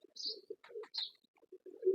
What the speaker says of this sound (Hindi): ये बटेरा है, बटेरा